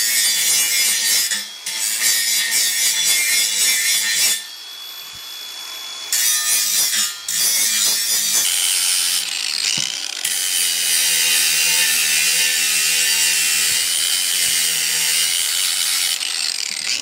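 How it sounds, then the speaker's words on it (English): A circular saw cutting wood in a home shop, with loud rasping bursts of cutting broken by brief pauses, then a sustained whining cut near the end. "for me in my shop, I basically got one for my circular saw"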